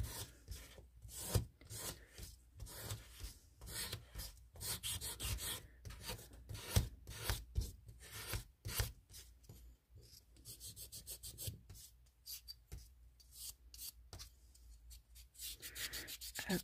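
A resin mold is sanded by hand, with quiet, rapid rasping strokes in an uneven rhythm that tighten into quicker bursts toward the end, close and faint.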